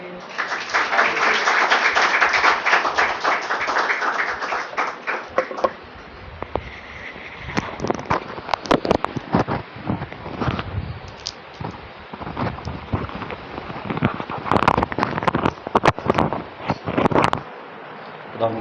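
A church congregation claps loudly in dense applause to welcome the pastor, then the clapping thins into scattered bursts while a voice speaks over the room.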